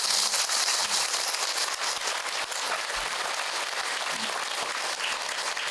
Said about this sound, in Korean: 힘찬 박수